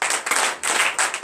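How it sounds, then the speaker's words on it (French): A church congregation at Saturday morning prayer in Benin claps in quick, dense bursts that pause briefly and return, the close, crisp applause filling the short stretch, with no voices. "nous allons lui donner de vives acclamations au nom de Jésus"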